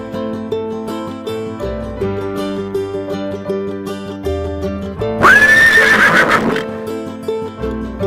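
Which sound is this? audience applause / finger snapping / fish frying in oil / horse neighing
horse neighing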